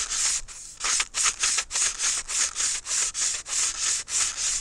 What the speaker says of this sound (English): sandpaper around the stick like this and give the dart a nice work over. This is 100 grit.